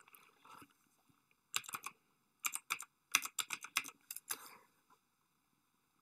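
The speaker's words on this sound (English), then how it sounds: "in the password field, you're going to type in the admin password that you wrote down" An admin password is keyed into a router login page on a computer keyboard: quick, close-up clusters of crisp clicks come in bursts separated by short pauses, quiet and with no talking.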